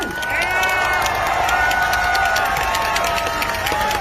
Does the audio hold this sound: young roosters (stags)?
no